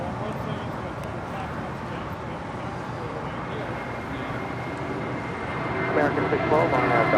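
An airliner takes off from runway 25 right at LAX, a steady broadband engine roar that swells louder near the end, with faint voices in the background.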